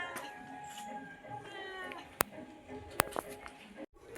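A house cat gives a few faint, drawn-out meows indoors at home. Sharp clicks and light household noise break in between the calls.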